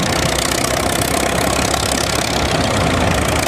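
A vintage Allis Chalmers gas tractor engine runs at a steady, loud, dense roar, close by and continuous, at a vintage tractor show alongside early gas tractors.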